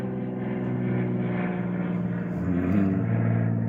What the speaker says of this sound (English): And I still got planes buzzing me